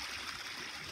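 A small spring run enters the St. Croix River over a sandy delta, giving a steady, close, gentle trickle and babble of shallow water with no voices.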